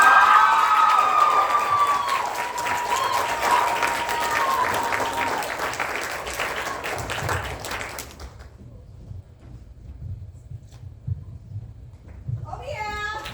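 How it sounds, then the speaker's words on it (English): Audience applause at a school cabaret, steady clapping and some cheering from a crowd that fades out around eight seconds, followed by quiet room noise and a brief voice at the end. "One round of applause."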